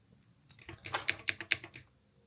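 Keys clack on a Yunzii Cat mechanical keyboard: a short, close burst of about half a dozen crisp strokes in quick succession, with no talking.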